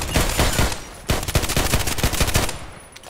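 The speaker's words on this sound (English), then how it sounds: "Going for the long shots with this little nice weapon here, pistol." Series of pistol shots from an HK USP in the shooter Contract Wars, fired at long range in quick, fairly regular single reports, loud and close, with a short pause before a second volley.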